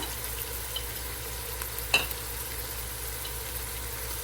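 Spices being fried and stirred in a pan for a chicken curry, including dry chili powder, ground coriander and cumin: a steady close sizzle with one brief scrape of the spoon partway through, no talking.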